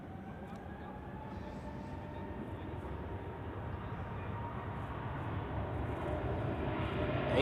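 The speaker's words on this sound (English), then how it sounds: "we have another departure on runway 28 to London Heathrow" A jet airliner departs from runway 28 at Zurich Airport, its broad engine roar rumbling from a distance and steadily building in loudness throughout.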